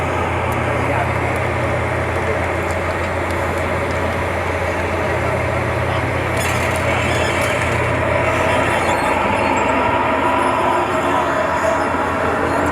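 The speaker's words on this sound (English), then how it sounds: "There is our Canadian LAV-3" Canadian LAV-3 Kodiak wheeled combat vehicle on the move, a continuous heavy engine drone with rumbling, rushing road noise, fairly loud and steady, and voices faintly in the background.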